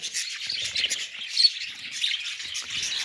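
Parrots chirp and tweet outdoors in light rain in quick, scattered bursts, bright and fairly close, with no voices.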